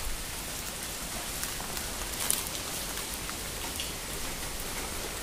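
Steady rain falls outdoors in a continuous, even hiss of drops on surfaces, with no break or change in strength and no voices.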